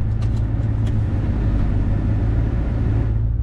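A Ford Crown Victoria pulling away, a loud steady low engine rumble close to the microphone, fading slightly at the end.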